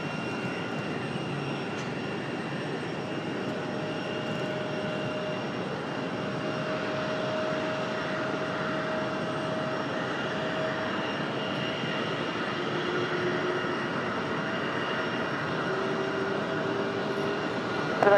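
A plane takes off from runway 23 left at Raleigh-Durham airport, its engines a loud, steady, broadband roar that holds for the whole stretch and swells slightly toward the end.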